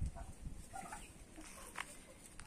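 Hens in a summer farmyard pen clucking and muttering in short, scattered bursts, fairly close, with a faint rooster-like call among them and some rustling in the background.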